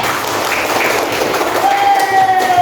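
A classroom group gives applause for a student named Nuril, with brief scattered clapping and crowd noise under voices, and a faint tone rising near the end.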